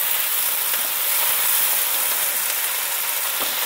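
Chopped large tomato dropped into a pan of frying chicken kabab masala, a steady bright sizzle and hiss of hot oil and steam, continuous and close with faint stirring.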